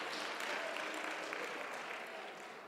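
An audience clapping at a public hearing on a climate change bill in a hall, a continuous even patter of many hands, moderately faint and fading slightly toward the end.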